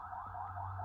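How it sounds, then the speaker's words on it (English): An ambulance siren sounds outside, a steady, continuous tone held through the whole moment, fairly faint and distant, with no talking over it. "outside is a darn ambulance or something"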